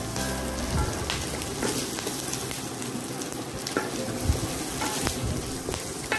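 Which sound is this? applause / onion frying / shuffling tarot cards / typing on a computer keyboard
onion frying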